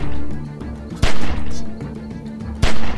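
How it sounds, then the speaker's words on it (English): Two sharp, loud gunshots about a second and a half apart crack out over a low steady hum of background music, each with a brief ringing tail. "Remember, don't stop shooting."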